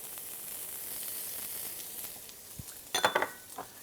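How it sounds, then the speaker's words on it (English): Garlic cloves and kale sizzling in a hot pan, a steady frying hiss throughout with a few brief clinks and stirring scrapes near the end, close and moderately loud. "into the pan we'll put garlic"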